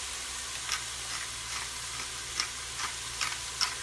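Onions sizzle steadily on high heat in a pan with salt and pepper for rice dressing, a continuous hiss broken by occasional soft scrapes and pops as they are stirred.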